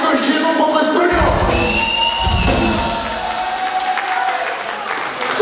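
A concert audience at a rock band's show claps and cheers, with shouts and whoops mixed into the applause while musical tones ring underneath and the noise eases slightly toward the end.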